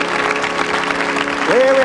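A 1984 TV game show studio audience applauds steadily under a faint musical tone, and a voice rises over the clapping near the end.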